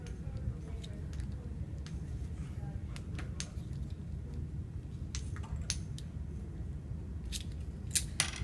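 RJ45 network cable being cut, a few sharp, crisp snips and clicks spread across the clip over a low steady background hum, close up, with no talking.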